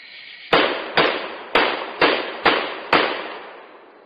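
Shotgun fired outdoors, six sharp loud reports in fairly quick succession, each with a short decaying echo, no voices.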